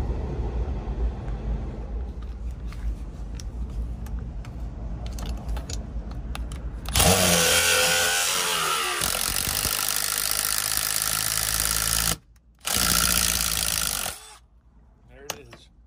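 An impact driver spins a swaging tool into half-inch copper tube at a warm walk-in cooler, a loud sustained whirring burst starting midway with a short pause, over steady background machinery hum.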